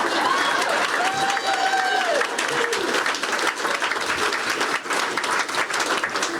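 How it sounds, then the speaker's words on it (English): Audience at a hope-themed community gathering breaks into sustained applause, dense and steady throughout, with a few faint whistle-like tones and cheers mixed in near the start. "You can clap."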